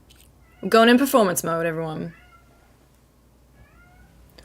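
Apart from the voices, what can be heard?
pet cat meowing wildly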